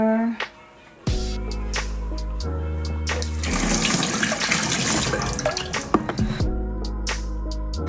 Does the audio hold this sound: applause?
no